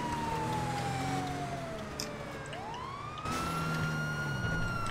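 A police siren in GTA Online wails, sweeping down and back up in a long continuous tone, loud and close, over a steady engine rumble.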